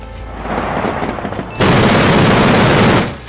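Gepard anti-aircraft tank autocannon firing in rapid sustained bursts, a loud dense roar of rounds that intensifies midway and then cuts off, heard up close with no talk.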